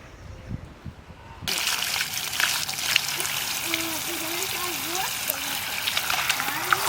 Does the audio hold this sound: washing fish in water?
yes